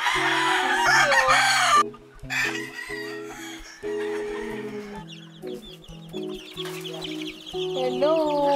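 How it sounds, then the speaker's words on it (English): Chickens cluck and squawk close by, overlapping, over a steady background of tinny music, with a brief burst of louder calls at the end. "mga new chickens, mga piso"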